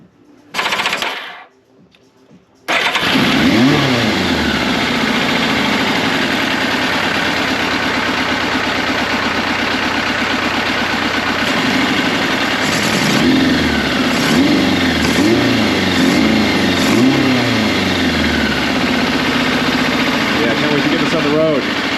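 Yamaha FZR 1000 motorcycle engine idling just under 1,000 RPM after a carburetor tune, a loud, steady, close-up throbbing idle with a rapid lumpy pulse that starts abruptly after a brief opening blip and carries on alone.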